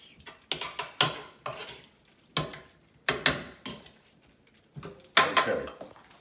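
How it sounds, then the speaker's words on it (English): Wet fettuccine tossed in a pan with lamb ragu, giving bursts of sizzling and scraping stirs in irregular clusters with short quiet gaps, close and fairly loud, no talking. "hear if your pasta is wet enough, because it'll actually zhush in the pan."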